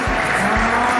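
Wedding guests clap for the groom during a church ceremony, a steady dense wash of hand claps running throughout, with faint voices underneath.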